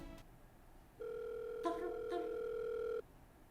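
A telephone ring sound effect gives one steady electronic tone that holds for about two seconds, with a couple of brief clicks partway through, quiet and alone.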